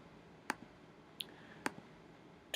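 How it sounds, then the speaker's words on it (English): Computer mouse clicks sound in a sparse, uneven sequence of four sharp, close ticks over a faint room hum. "just by clicking out my route"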